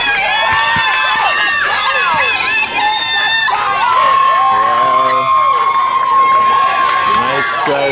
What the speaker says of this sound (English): As he approaches the crowd, they're cheering him on.